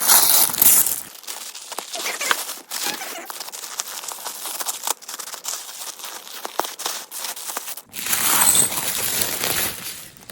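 Tissue paper rustles and crinkles continuously while a Chanel 19 handbag is unwrapped, with loud crumpling bursts at the start and end and softer, intermittent crackling in between.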